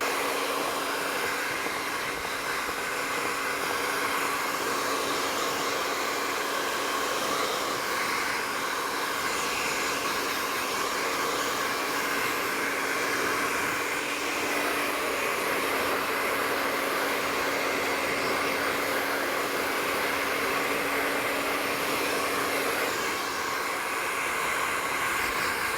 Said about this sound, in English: we're going to blow dry it, and then we'll see what the finished result looks like